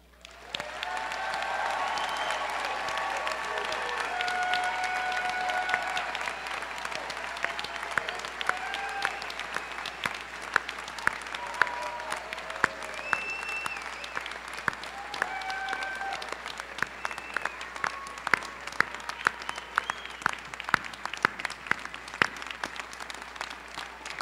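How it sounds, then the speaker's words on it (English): Sustained, thunderous applause from a large commencement audience congratulating graduates, dense steady clapping lasting over twenty seconds with scattered cheers and whoops rising above it. "Let's all join in a round of a very powerful, thunderous applause to congratulate our graduates"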